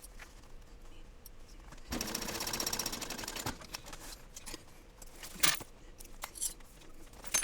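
A home sewing machine basts fabric for an onigiri backpack, running in a steady mechanical burst of about a second and a half amid quieter handling clicks and rustles.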